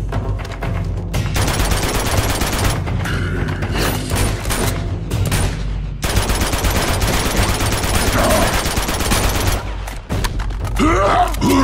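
Sustained gunfire in Uncharted 2: Among Thieves, dense bursts of automatic shots in long loud stretches with brief pauses, mixed with game effects and groans.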